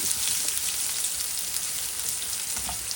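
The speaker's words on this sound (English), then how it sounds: "we are adding first, like potatoes, a little bit of papayas, and we are just stirring a little bit." Potatoes and papaya are stirred as they fry in a hot pan, making a loud, dense, rain-like sizzle that holds steady for the whole stretch with no voices.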